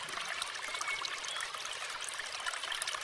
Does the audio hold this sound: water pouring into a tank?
yes